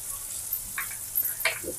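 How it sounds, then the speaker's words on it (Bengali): Bengali-style spice paste for kochu saag (taro leaves) frying in a pan, a soft steady sizzle with a few brief stirring scrapes, close and fairly quiet. "আমি মশলাটাকে আগে কষে নিচ্ছি"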